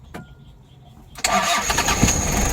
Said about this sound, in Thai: อันนี้เครื่อง 2L นะครับ ต้องเผาหัวนิดนึงนะครับ